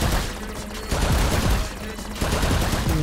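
A minigunner tower in Roblox Tower Defense Simulator fires a steady, dense rattle of rapid shots that swells and dips in waves across the clip, with no gaps in the fire.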